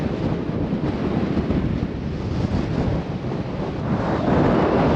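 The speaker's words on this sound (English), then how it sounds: "If you can hear me, it's so windy." Strong wind roars and buffets the microphone continuously on the summit of Mount Augustus, Australia, about 1,050 meters up, a loud rough rush with no talking.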